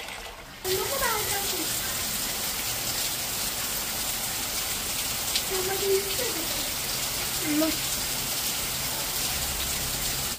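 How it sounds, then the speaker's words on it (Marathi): Steady rain hisses outside as a broadband wash, with occasional voices and small sounds briefly rising over the constant patter. "बाहेरचा पाऊस दाखव का बाळा"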